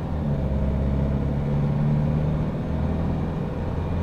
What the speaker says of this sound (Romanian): În accelerare motorul se aude.